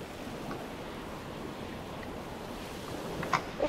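Ocean waves wash against an old cargo ship in the ship-building game Stormworks, a faint, steady surf and wind rumble with a few small splashes near the end and no voices.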